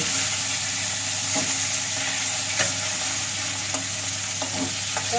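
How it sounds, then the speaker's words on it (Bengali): Katla fish pieces fry in a pan with a continuous close crackling sizzle and occasional sharp pops and ticks throughout. No voices are heard. "মাছটাকে এপিট পিস করে ভালো করে ভেজে নিতে হবে"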